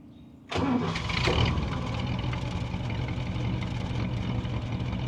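A 1955 Chevrolet Bel Air's 265 V8 engine cranks and catches abruptly, roaring up loudly before settling into a steady, rumbling idle nearby.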